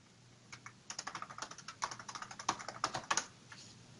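A password being typed on a computer keyboard to log back into a virtual machine: a steady run of close, crisp key clicks at an uneven typing rhythm, with no one speaking.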